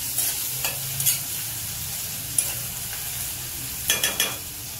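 Onion sizzling and frying in a pan while poha is made, a steady close crackle with a few sharper stirring scrapes and clinks scattered through.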